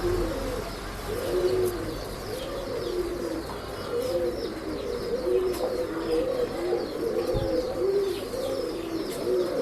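Breeding pigeons at a Bangalore pet shop coo in overlapping, rolling calls, close and steady, with a light chirp here and there.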